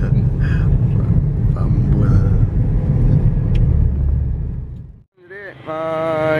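A car engine rumbles loudly nearby as the vehicle pulls away, the low drone breaking off briefly before a higher tonal sound follows.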